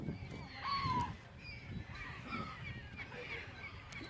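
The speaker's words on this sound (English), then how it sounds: "I knew the birds were going to get active." Gulls calling by the water at Lake Nockamixon, Pennsylvania, with a few harsh, overlapping cries at moderate distance over a low murmur of outdoor background noise.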